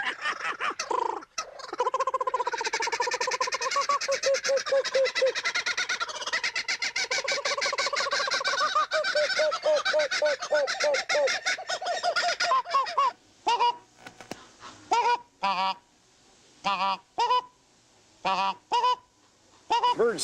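Loud, raucous calling of an Australian bird: a long, dense stretch of rapid, rolling cackles and hoots, then shorter separated bursts with gaps between them, close and clear with no talk.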